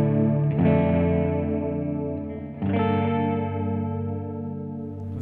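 Clean electric guitar through a Blackstar Dept. 10 valve pedal, tuned to a more American-voiced tone, with two lush sustained strums ringing out with chorus-like shimmer and reverb, loud and alone.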